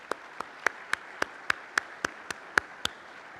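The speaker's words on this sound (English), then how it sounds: "let's give ourselves a round of applause for that work" Sparse, distinct hand claps at a League of California Cities conference, about a dozen evenly spaced sharp claps, fairly quiet, like one or a few people clapping in a slow steady rhythm.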